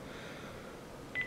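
A single short telephone keypad tone sounds near the end, entering a password over a phone line into an Arduino DTMF decoder. Before it there is only a steady low hiss.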